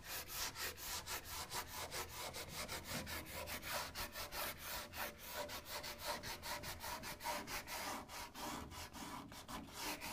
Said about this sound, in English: we're just going to scuff up where it's going to attach, and that's going to be to the inside portion of the bulkhead